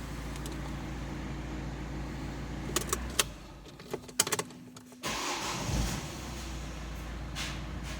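An Opel Zafira B car engine idles, cuts out briefly with a few clicks and key jangles, then cranks and starts again after a spark plug change, settling back into a steady idle.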